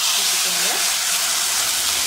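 Oil sizzles and crackles steadily in a small pan, a continuous bright hiss of fenugreek seeds and curry leaves being fried, close and fairly loud throughout.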